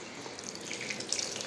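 Water runs from a household tap into a sink, a steady close splashing rush lasting the whole moment.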